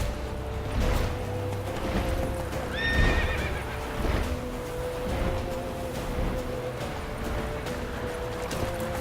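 Roach, the horse in The Witcher 3: The Wild Hunt, gallops with steady, loud clip-clop hoofbeats, gives a clear whinny near the middle, and runs over a droning game background with no talk.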